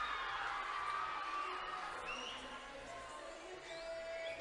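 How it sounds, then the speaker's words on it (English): A crowd of local secondary school children cheers at a junior world weightlifting competition in Suva, a steady distant roar with shouts and whoops layered over it. "She's getting a big cheer here."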